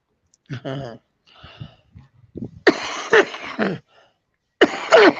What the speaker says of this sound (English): Sorry, I cough. It's my morning cigarette.